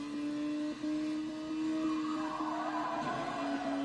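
A car in the racing game Burnout Legends slides sideways mid-turn at high speed, a steady engine drone with tonal whine layered under a rising skid-like hiss, continuous throughout.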